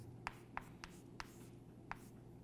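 A pen or marker scratches out an equation by hand during a geometry lesson, five short, faint strokes at an uneven pace over a quiet background hum.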